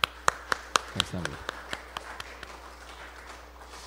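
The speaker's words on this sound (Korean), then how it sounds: "우리 격려의 박수 겸 하나님께 영광의 박수를 드리겠습니다" Brief scattered clapping from a church congregation in rhythmic claps that fade after a few seconds, with a voice speaking over it.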